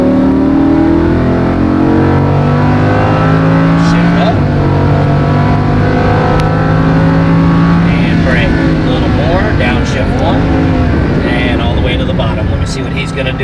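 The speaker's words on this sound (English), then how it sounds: "Accelerate as you come out, all the way to the orange cones." A race car accelerates hard out of a corner on a track, its engine loud and close as it climbs through the revs and shifts. An instructor talks over the engine throughout.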